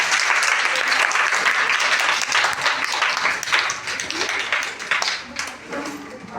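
A classroom full of students claps loudly and continuously, the applause holding steady before thinning out toward the end, with voices mixed in.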